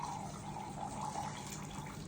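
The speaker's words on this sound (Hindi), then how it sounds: "ये दोबारा से पानी इस फनल में डाल दिया मैंने।" Water being poured into a funnel during a home birthday magic trick, a steady continuous trickling stream at close range with no voices over it.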